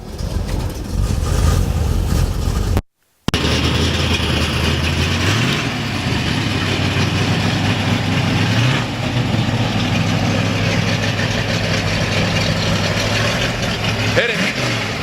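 A 1956 Chevrolet Bel Air's engine idles with a steady, close, low rumble, broken by a brief dropout near the start, with a few gentle rises in pitch along the way.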